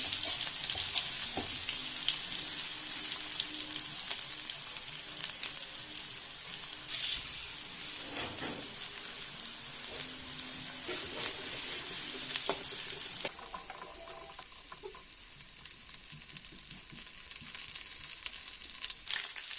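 Garlic fries in a pan for a village-style chickpea-leaf bhaji, making a soft, continuous crackling sizzle with a few faint stirring clicks, fairly quiet and close.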